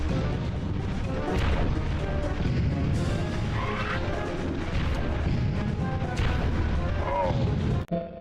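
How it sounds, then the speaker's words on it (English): Rapid booming bazooka blasts and crashing explosions from the PlayStation game Army Men: Green Rogue, loud and continuous, ending in a sharp final impact. "It's shooting bazookas."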